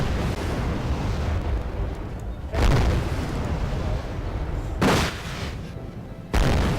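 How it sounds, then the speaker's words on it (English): Airstrike explosions in the Wargame strategy video game: three heavy booming blasts spaced a couple of seconds apart over a constant rumble of distant battle noise. "And here we go, that's the airstrike."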